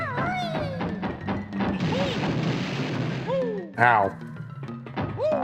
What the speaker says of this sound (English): I don't like these exploding box enemies.